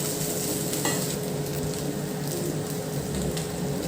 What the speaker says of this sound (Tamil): இப்போது நான் எடுத்து வச்சுருக்கிற சாதத்தை உள்ளே கொட்டி கிளற போகிறேன்